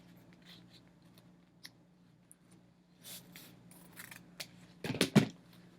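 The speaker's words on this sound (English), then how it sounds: "So you go all the way around, cut your ribbon" Scissors snip through ribbon while wrapping a handmade motorcycle-shaped diaper cake, a few soft, close snips with faint rustling, ending in a louder burst of cutting near the end.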